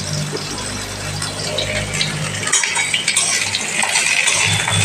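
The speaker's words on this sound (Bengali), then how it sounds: "আমি আলু ডাঁটাটা দিয়ে ভেজে নিই।" Potatoes and vegetable stems fry in a pan for a home-style Bengali shukto, giving a steady close sizzle with scattered scrapes and clinks of utensils against the pan.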